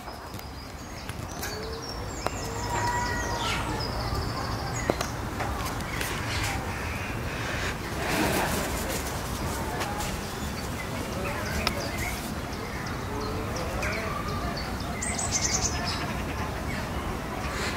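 Birds call and chirp throughout an aviary at the Avifauna bird park, crow-like caws and brief high tweets scattered over a dense, steady background of ambient noise and some faint voices.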